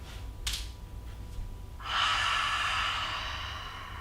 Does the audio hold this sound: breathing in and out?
yes